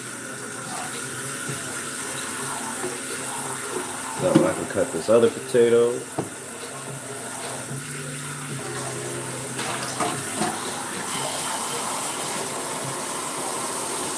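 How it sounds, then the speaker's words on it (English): Water runs steadily from a kitchen tap into a bowl, a continuous rushing hiss throughout, with someone talking and some clattering partway through. "I'm pouring some water in a bowl."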